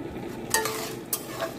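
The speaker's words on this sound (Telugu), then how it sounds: "ఎండుమిర్చి కూడా వేగిపోయినాయి" Dried red chillies frying in oil for an ivy gourd fry, a soft sizzle under two sharp spoon scrapes against the pan, close and brief.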